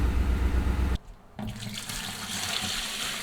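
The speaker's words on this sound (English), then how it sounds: "I'm just gonna turn the car on for a minute and let the water pump run and see if I can get anything else out" Murky coolant drains out of a car radiator's open petcock while the engine idles and its water pump pushes fluid through, giving a steady splashing rush with a brief lull partway through.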